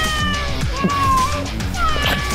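A house cat meows loudly and drawn-out, close to the microphone, with wavering cries over a busy background of voices and other indoor noise.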